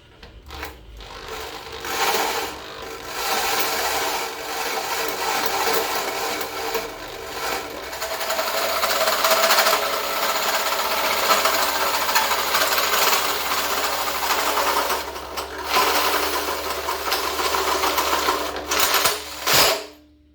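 Tack welding onto a BMW 318 oil pan gives a steady, harsh buzzing crackle that runs almost nonstop for about twenty seconds, with brief breaks and a short sputter near the end.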